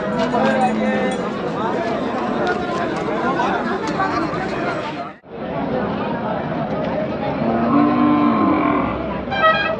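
Bulls at the Chakan cattle market, lowing close by over a busy crowd of overlapping voices and trading chatter, with a brief lull midway before the noisy babble resumes.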